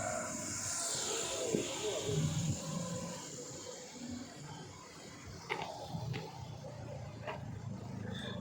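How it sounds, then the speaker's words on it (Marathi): Road traffic on Parra Road in Goa, a narrow, congested lane lined with coconut trees: a continuous low rumble of passing vehicles with occasional brief engine rises, at a moderate distance and fairly faint. "रस्ता छोटा असल्यामुळे खूप ट्रॅफिक होते"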